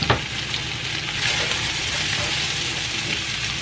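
Chopped meat frying in a pan, a loud, close, constant sizzle with a sharp spit at the start and steady crackling hiss throughout, no voices.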